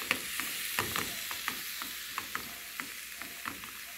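Spinach and onion frying in a drizzle of olive oil in a pan, a soft continuous sizzle with regular stirring clicks and scrapes, close and fairly quiet, no voices.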